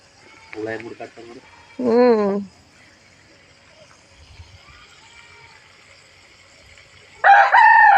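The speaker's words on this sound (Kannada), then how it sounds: "ಕೋಳಿಗಳೆಲ್ಲ ಏನು ಹುಡುಕ್ತಾವಪ್ಪ ಅಲ್ಲಿ ನೀರೊಳಗೆ" Chickens searching in water call out in a few short bursts separated by quiet stretches, with a voice heard briefly among them.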